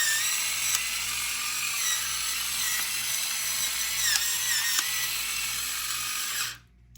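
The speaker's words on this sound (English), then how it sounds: "the motor kind of sounds like it's struggling" A Black Rain electric pepper mill whines and grinds steadily at its coarsest setting, its small motor sounding strained, close and continuous before cutting off abruptly near the end.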